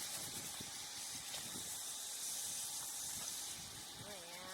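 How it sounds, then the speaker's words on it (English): Steak searing in a pan on a camp burner outdoors in the woods, a steady loud sizzling hiss throughout, with faint clicks and scrapes and quiet voices underneath. "I love searing a steak."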